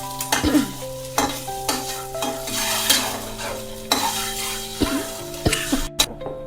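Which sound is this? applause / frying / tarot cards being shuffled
frying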